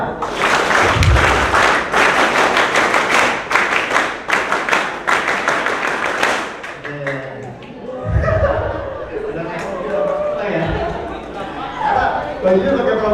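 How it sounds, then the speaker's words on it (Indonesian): Group at a school drug and HIV prevention outreach session doing the rhythmic Indonesian scout clap: loud, tightly synchronized clap bursts for several seconds, then stopping into murmuring chatter, laughter and a few voices. "tepuk pramuka."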